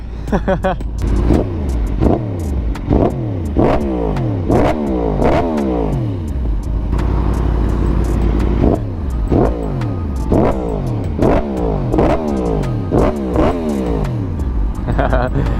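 A Yamaha R1M sport motorcycle engine revs hard again and again, pitch climbing then dropping with each gear change, loud and close throughout.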